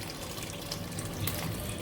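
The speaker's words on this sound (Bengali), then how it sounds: "তো আমি এবার এর মধ্যে দিয়ে দিলাম গরম জল," Hot water poured into a pot of chicken that is partly boiled in its own juices, a close, steady gushing splash that runs for about two seconds without talking.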